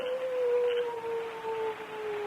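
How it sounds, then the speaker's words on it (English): A dog howls in an old-time radio drama, one long, sustained, wavering wail that slowly falls in pitch and holds at moderate loudness against a quiet background. "a dog."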